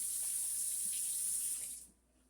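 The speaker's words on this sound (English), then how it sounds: "Sorry if you couldn't hear me over the running water." A kitchen faucet runs while water is measured out for seasoning country-style ribs: a steady, close hiss of flowing water that cuts off near the end, leaving a quiet room.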